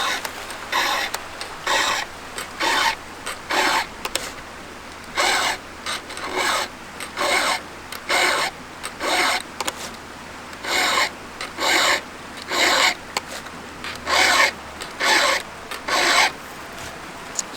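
A hand file sharpens burred steel chainsaw teeth in close, loud, rhythmic bursts of rasping strokes, grouped in short runs separated by brief pauses, with no voices.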